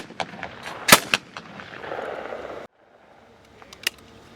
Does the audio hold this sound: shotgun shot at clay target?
yes